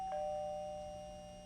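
A doorbell rings once in a television soap opera scene, a clear single chime tone that sounds and then slowly fades out.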